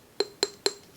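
Glass food storage containers clink together three times in an even rhythm, bright, ringing taps that are close and clear in a quiet room.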